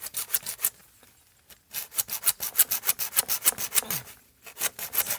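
A hand saw cuts with quick, rhythmic back-and-forth strokes during a simple farm siphon pipe installation. The strokes are loud and close, stop briefly, and then resume; the blade breaks partway through.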